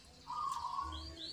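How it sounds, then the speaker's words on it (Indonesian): A zebra dove (perkutut) gives a cooing call, a soft sustained tonal note with a fainter rising whistle after it, heard alone over a quiet background hiss. "kalau burung perkutut itu istilahnya manggung"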